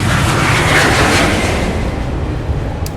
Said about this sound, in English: So this one is just the jet plane takes off sound.